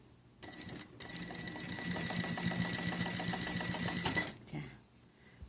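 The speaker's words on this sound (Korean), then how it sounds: "맞춘 다음에 박음질 해볼게요." A sewing machine stitches along a jeans waistband being taken in without unpicking it. A steady, close run of needle strokes lasts about four seconds, with brief pauses of handling before and after.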